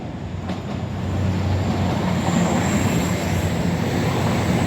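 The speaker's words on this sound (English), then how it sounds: "Coming now, we have cross country 170 from Stansted Airport to Birmingham New Street" A CrossCountry Class 170 diesel unit, running from Stansted Airport to Birmingham New Street, rumbles through Leicester station with a steady, loud roar that builds after the first second and holds.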